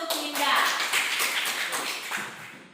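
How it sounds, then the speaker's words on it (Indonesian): A classroom applauding a student, a short burst of many hands clapping close by, fairly loud, then tapering off after a couple of seconds. "tepuk tangan dulu untuk Linda"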